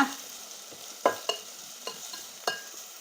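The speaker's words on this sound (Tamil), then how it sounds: "கட் பண்ண வெங்காயத்தை உள்ளே சேர்த்துக்கோங்க வெங்காயத்தை உள்ளே சேர்த்து கொடுத்துட்டு கிண்டி கொடுத்து ஒரு பத்து நிமிஷத்துக்கு வெங்காயத்தை வதக்கிக்கோங்க" Chopped onions sauté in a pan as a spoon stirs them, a steady sizzle broken by several sharp scraping clacks, close up and with no voices.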